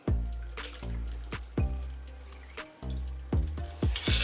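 A Manhattan cocktail is poured into a gold coupe glass in several short bursts, each splash and trickle separated by brief pauses, close and clear with no talking.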